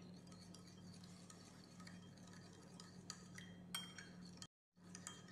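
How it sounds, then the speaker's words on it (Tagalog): Salata salad being stirred in a bowl with a spoon, soft repeated scraping and light clinks close by, quiet and steady with a short silent gap near the end. "Tapos haluin at tikman"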